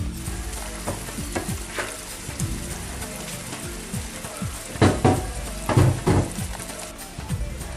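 A salmon pasta sauce fries in a pan, crackling steadily while it is stirred, with a few louder clattering scrapes of the utensil near the end, close up and without speech.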